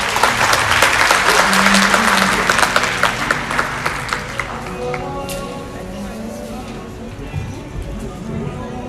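Audience applause at a book launch at an academy, a loud burst of many hands clapping that gradually thins out into scattered claps and murmuring voices.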